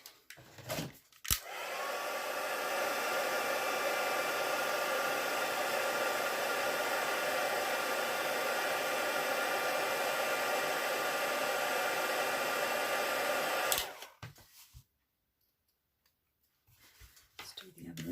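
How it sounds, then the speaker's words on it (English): Heat gun warming embossing powder on a handmade birthday card, a steady airy blowing roar switched on for about twelve seconds nearby, then clicked off into quiet. "And then I'm just going to heat emboss that"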